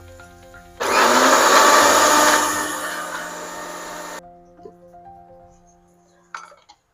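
A kitchen mixer grinds paneer, ginger and garlic into a paste, roaring loudly for about three seconds before winding down and stopping, followed by quiet clinks of the jar and utensils.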